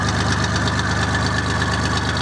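An Aveling Barford GRT road roller's diesel engine idles close by with a steady, low, throbbing rumble and a fast even pulse, unbroken and alone.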